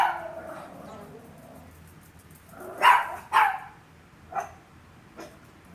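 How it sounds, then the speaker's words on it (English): Dogs bark in a few sharp bursts that start off-mic and grow louder, leaving short gaps of quiet room tone between the last yips. "I'm hating them right now that they're barking the whole time"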